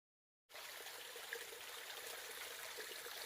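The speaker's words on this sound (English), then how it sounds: "Nice mountain spring here." A mountain spring on a hiking trail trickles and splashes steadily. The water sounds close and continuous, starting suddenly and then holding at an even, moderate level with no voices.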